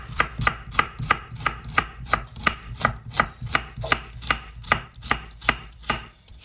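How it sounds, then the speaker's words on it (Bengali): A knife chops onions, a mix of white and red, on a board in a quick, regular series of sharp close-up thuds, about three per second, with no talking. "দর্শক, আমার পেঁয়াজগুলি কুচি হয়ে গেছে"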